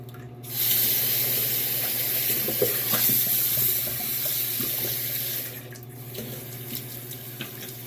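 Tap water runs steadily into a sink as the head is rinsed after a shave, a broad continuous rush lasting several seconds, loud and close, then stopping abruptly with a faint dripping trickle left behind.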